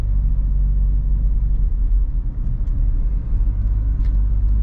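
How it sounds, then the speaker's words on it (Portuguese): Renault Duster Iconic 1.3 TCe restarting through start-stop and pulling away, a steady low engine rumble heard from inside the cabin, continuous and fairly loud with no talk. "na hora que eu tiro o pé do freio, ele já liga o motor e já começa a andar"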